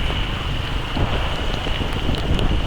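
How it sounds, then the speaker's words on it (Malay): Rain falls during a motorcycle ride, a steady loud hiss mixed with wind rush across the microphone, no voices. "Way balik ni dah mula hujan."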